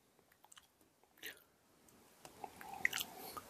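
Close, quiet chewing and biting on a rice milk dish, soft wet crunches scattered irregularly with a few louder bites toward the end.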